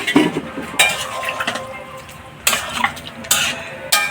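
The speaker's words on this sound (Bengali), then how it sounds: "ঢাকনা খুলে দিলাম।" Metal lid lifted off a pot of simmering potato and pointed gourd curry, with several sharp clanks and scrapes of metal on metal over a low bubbling background, close by.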